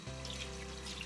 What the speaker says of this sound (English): That's the running water, just to catch the last few lentils that are caught up in the jar.